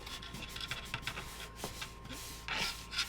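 Steady rubbing and scraping of a hand along the side of a paper gingerbread house model during assembly, with short repeated strokes and a few brighter swipes near the end, close and fairly quiet with no talk.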